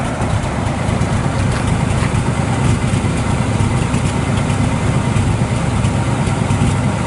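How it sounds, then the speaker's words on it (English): 1968 Chevrolet Camaro SS 350 V8 with stock exhaust idling steadily, a loud, close, continuous low rumble with no talk. "It's all stock exhaust,"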